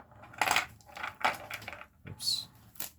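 Boggle letter dice rattle and clatter in their covered tray as it is shaken, several quick bursts of plastic clicking, close and fairly soft.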